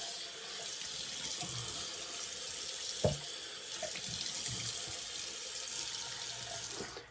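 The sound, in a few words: tap water running for a cold water rinse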